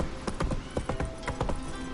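Hooves of a horse trotting in The Witcher 3: Wild Hunt, a steady rhythmic clip-clop of repeated close, distinct strikes across two seconds with no voice over them.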